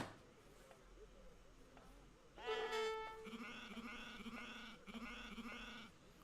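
A few sheep bleats from the video game Age of Empires 3 sound over quiet background ambience, one short cry followed by a longer wavering bleat with a repeated, pulsing tone, close and clear.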